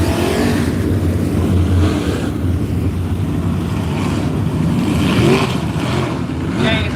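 Super late model race cars circle Latrobe Speedway in a race, with a loud, continuous engine roar that swells and fades as the cars pass.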